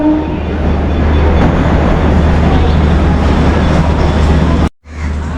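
The Sairang Express standing at platform 3 of a busy railway station, with a loud, steady low rumble and mechanical drone that fills the scene, then briefly cuts out near the end before resuming.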